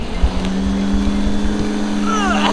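A Lawnmaster electric lawn dethatcher runs with a steady, loud motor drone and whine that holds evenly throughout, with faint rising whistles near the end.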